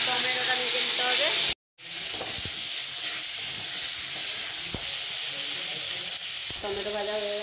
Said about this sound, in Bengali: কড়াইতে তেল দিয়ে দিলাম, টমেটোটা ভেজে নিতে হবে।